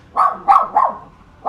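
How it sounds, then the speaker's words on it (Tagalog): A dog barks four times at home, sharp mid-pitched barks spaced irregularly, loud and close, with no talking over them. "Ang ingay. Papapasukin ko nga muna itong aso namin."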